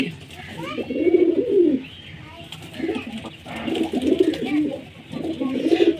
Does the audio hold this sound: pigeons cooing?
yes